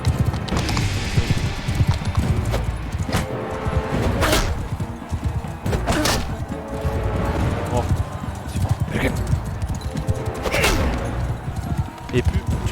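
Horse hooves clip-clop repeatedly in the video game Mount & Blade 2 Bannerlord, a busy steady patter mixed with clashing battle noise and sharp bursts, while a person talks over it throughout.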